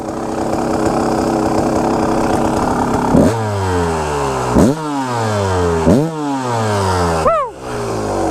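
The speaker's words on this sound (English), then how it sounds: "Let me give you guys a listen to this real quickly." A Kawasaki KX250 dirt bike engine idles with a rough, buzzy two-stroke rattle, then is revved up sharply three times in a row, each throttle blip rising and falling back to idle, loud and close.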